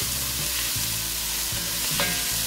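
Smoked bacon lardons frying in a pan for a rabbit stew with mustard, a continuous bright sizzle with faint scraping of stirring underneath.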